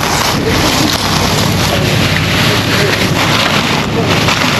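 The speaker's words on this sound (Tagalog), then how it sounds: "Ito daw, mahangin." Constant wind roars and rumbles against the microphone throughout, loud and unbroken, with voices faintly mixed in underneath.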